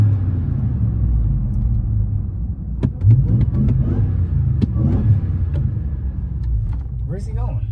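Ram TRX pickup truck engine rumbles low and steady nearby, with a brief rev midway, while people talk over it.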